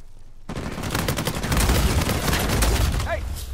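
Rapid gunfire in an Uncharted 4 multiplayer match, a dense, loud burst of automatic shots that starts abruptly and keeps rattling for several seconds, close and continuous.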